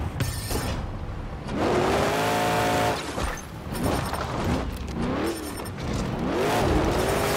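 Engine roar of a monster truck in the Monster Jam Showdown video game, a steady loud drone with rising and falling revs and pitch sweeps, continuous across the clip with no talk.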